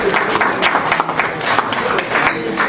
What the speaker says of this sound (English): Please give a hand of applause to the Delta Forum there.